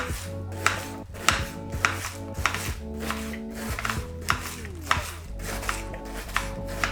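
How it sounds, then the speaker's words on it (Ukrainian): A knife finely chops young cabbage on a board in a quick, uneven series of crisp, close taps, each with a short crunch. "І капусту дрібно нарізаємо."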